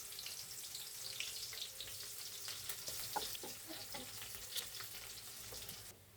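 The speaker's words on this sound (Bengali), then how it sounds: "তেলটা দিয়ে দিলাম, আমি পেঁয়াজটা দিয়ে দিলাম।" Onions frying in oil in a pan while a Bengali mung dal and fish-head curry is cooked: a steady, fairly quiet sizzle with scattered crackles and light stirring clicks.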